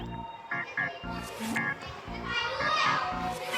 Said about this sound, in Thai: โหเด็กๆ เสียงดังมาก อันนี้ก็บรรยากาศข้างนอกบ้านนะคะ